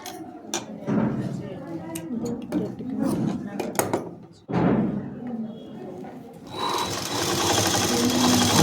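Sewing machine running in bursts while stitching interlock piping onto a garment neck, the motor whirring steadily with short pauses and handling thumps, under near talk.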